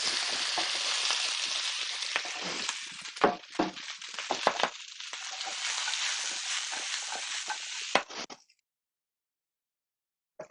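Mushrooms and asparagus seasoned with salt and pepper sizzle in a hot pan with a bright, steady hiss, broken by a few clinks and stirring knocks before the frying noise cuts off abruptly.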